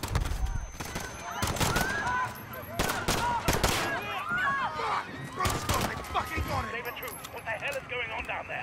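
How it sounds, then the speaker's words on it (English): Gunfire from the Call of Duty Modern Warfare campaign during a police standoff at Piccadilly Circus, with several sharp shot bursts over loud shouting voices and busy scene noise. "Shots fired."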